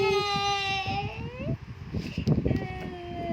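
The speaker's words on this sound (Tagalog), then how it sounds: "May umiiyak na agad." A child cries in a high, wavering wail that breaks into choppy sobs amid indoor household noise, at home where siblings have been quarrelling.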